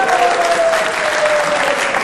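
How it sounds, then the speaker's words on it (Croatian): A conference audience applauds a keynote speaker at a tech talk on digital privacy, a loud steady wash of clapping that fills the room evenly from start to finish. "Molim vas jedan veliki aplauz za Alana Đurića."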